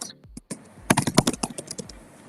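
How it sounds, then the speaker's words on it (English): Fast, hard typing on a computer keyboard: a dense, close burst of clattering keystrokes that builds up after a few scattered taps. "I love the angry typing"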